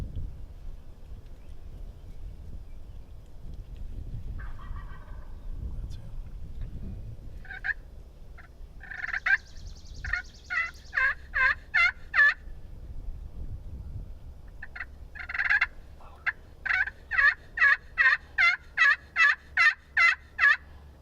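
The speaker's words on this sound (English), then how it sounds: "Sure sounded like another bird gobbling close." Wild turkey gobbling outdoors during a spring hunt, a series of rapid rattling gobbles in bursts, fairly close and loud, over a low wind rumble.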